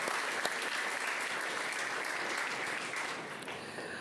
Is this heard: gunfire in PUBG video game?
no